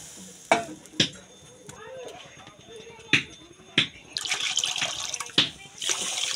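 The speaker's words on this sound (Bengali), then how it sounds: "প্রথমে একটু জল দিয়ে দিলাম, আলুগুলো দিয়ে দিলাম" Potatoes drop into water in a cooking pan with several distinct thuds and splashes, followed by sloshing and stirring of water, with a voice speaking at times.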